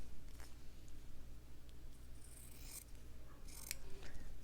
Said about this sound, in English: I'm going to trim this down just a little bit